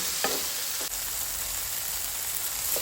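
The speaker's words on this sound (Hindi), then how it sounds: "टमाटर को भी इसमें अच्छे से मिक्स करके एक 5 मिनट के लिए कुक करके लेंगे।" Tomatoes cooking in oil in a pan, a steady close sizzle and crackle running throughout with a couple of soft stirring scrapes, no voices.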